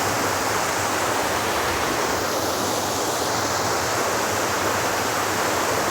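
Steady rushing water of a stream in a mountain valley, a dense unbroken wash of noise, close and constant without a break.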